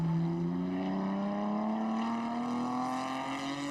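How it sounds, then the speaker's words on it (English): A McLaren GT4 race car runs down the start-finish straight at Okayama during a GT4 Japan race, its engine a steady rising drone held at high revs, loud and continuous from start to finish. "coming down the start-finish straight is the McLaren of Yuko Suzuki"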